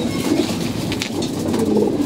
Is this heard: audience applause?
no